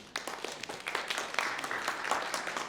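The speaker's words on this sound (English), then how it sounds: "So I want to ask for a round of applause for them." An audience at a county budget community meeting gives a round of applause, a steady, fairly soft patter of many hands clapping together for the whole stretch.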